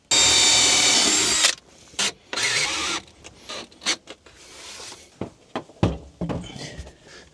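A power drill drives screws into a van conversion build: one long loud whir, then a string of short, sharp drill bursts with brief pauses between, close by and with no talk.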